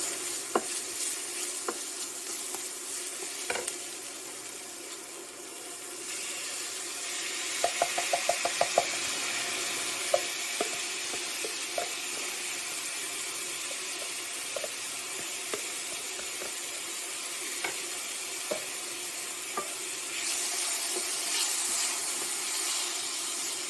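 Pasta toasts in a covered skillet for rasta pasta, producing a quiet, continuous sizzle with scattered wooden knocks and clicks from stirring, including a short quick run of taps.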